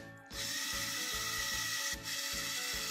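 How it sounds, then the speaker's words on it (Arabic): An electric drill bores a hole through a small block of wood clamped in a vise, heard as a steady whirring drone with a rhythmic, ratcheting pulse, close and alone. "هعمل فيها ثقبين مناسبين لدخول المواسير، المواسير النحاس بالشكل ده باستخدام الشنيور."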